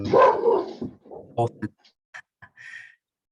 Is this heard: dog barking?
yes